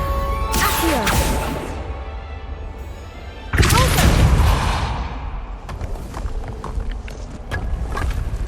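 Spells cast in the Hogwarts Legacy video game, including the Accio summoning spell: loud whooshing magical bursts with crackling impacts and swirling tones, one strong surge midway followed by fainter clatter and rustle.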